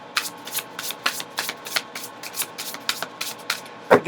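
A deck of oracle cards being shuffled in quick repeated riffles, about a dozen crisp bursts in steady rhythm, close and clear, with no voices.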